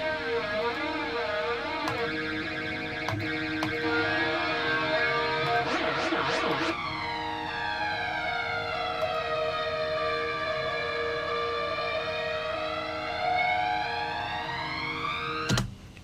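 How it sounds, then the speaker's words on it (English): A long delay setting on a reverb and delay effect creates a flanger, a dense, sustained tone with sweeping comb-like swooshes that rise and fall steadily, loud and continuous with no speech. "Then your longer delays puts you into a flanger."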